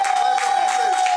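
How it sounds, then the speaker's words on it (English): A crowd claps for the performer Blizzard at a live hip-hop show, a brief burst of applause under a steady tone with voices in the room. "clap it up Give it up for for Blizzard"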